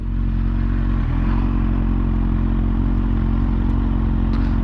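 A motorcycle cruises along a city street with a steady, droning engine rumble close by, loud and unbroken, with a light clatter near the start and no speech.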